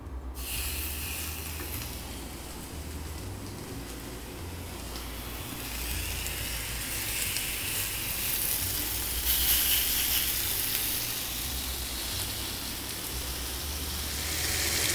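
Beef tenderloin medallions with bacon grilling in a dry, oil-free pan over high heat, giving a steady, close sizzle and hiss that swells slightly and continues throughout without talk.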